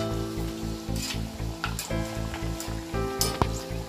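Potato slices for French fries deep-fry in hot oil over medium heat, giving a steady crackling sizzle with sharp bubbling pops, over a loud, regular low mechanical pulsing hum close by. No voices.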